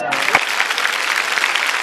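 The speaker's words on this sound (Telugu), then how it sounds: "కమాన్ క్లాప్స్." A studio audience at a comedy stage show breaks into clapping after a brief opening sound, then keeps up a steady, fairly loud patter of applause throughout.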